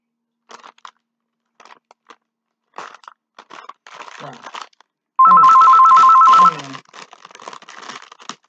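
A telephone rings at home with a steady electronic ringing burst lasting over a second, loud and close, between short stretches of someone talking and rustling of mail packaging.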